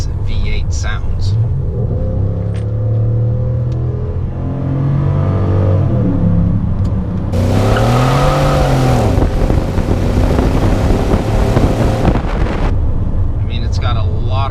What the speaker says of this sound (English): So what are the things that I love the most about this truck? It's definitely the engine and the way that this V8 sounds.